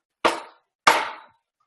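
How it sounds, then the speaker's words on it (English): A dead blow hammer strikes a wooden bowl core during bowl coring on a lathe, two sharp solid knocks about half a second apart, each ringing briefly before fading, loud and close with no talk. "dead blow hammer, go a little bit more."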